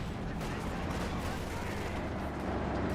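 Light machine gun fire in Company of Heroes 2, dense overlapping gunfire and battle bursts that run continuously at a steady, loud level, mixed with the wider combat din and a voice talking over it.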